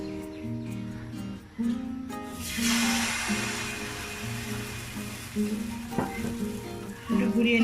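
Patishapta pitha batter sizzles steadily in a frying pan, a bright close crackle that starts when more batter is poured in and continues throughout, with some clatter of utensils.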